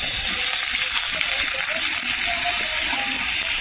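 Potato and pointed gourd fry in a pan, giving a dense, steady hiss of sizzling oil that continues without break at close range.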